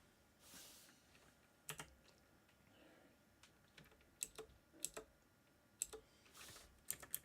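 Slow, uneven hunt-and-peck typing on a computer keyboard, with sparse separate key clicks and irregular pauses, quiet and close, no talking.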